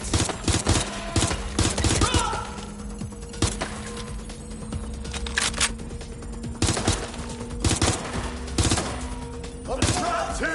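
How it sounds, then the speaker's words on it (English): Heavy gunfire in the Watch Dogs Legion video game: repeated loud bursts and single shots crack in irregular clusters over about ten seconds, with game voices and low background hum. "Suspect shooting!"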